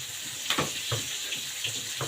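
Hands being washed under a running kitchen tap, a steady hiss of flowing water with soft splashes and rubbing at the sink, fairly close.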